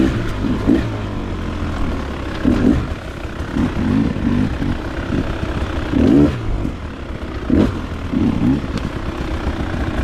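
A KTM 300xc or Beta 300rr dirt bike being ridden, its engine droning steadily with repeated surges and revs rising and falling every second or two, close and fairly loud throughout.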